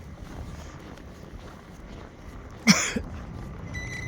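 Wind gusting across Boston Common during a blizzard with about a foot of snow on the ground, a steady low rush with one sharp louder gust buffeting the microphone partway through.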